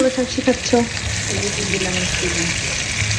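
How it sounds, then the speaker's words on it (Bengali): Hilsa fish fries in a pan with a steady hissing sizzle, while a brief voice sounds over it near the start. "আমি ইলিশ মাছটাকে ভাজতে দিছি"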